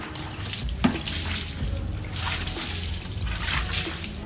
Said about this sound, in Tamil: ஒரு வாளி தண்ணி எடுத்து வண்டி ஃபுல்லாக வந்து ஊற்றி விட்ருங்க